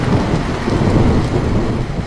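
A heavy downpour with rolling thunder in a Hindi cartoon story, a loud, dense and continuous rain roar with deep rumbling throughout, with no talk.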